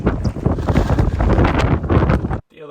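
Strong storm wind gusts over the Scottish island landscape near a bothy, a loud, close, continuous roar of wind buffeting the microphone that cuts off abruptly at the end.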